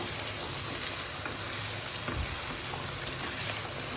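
Chicken frying in a pot for aloo chicken, a steady close hiss and sizzle of oil that runs evenly throughout with faint stirring clicks and no voices.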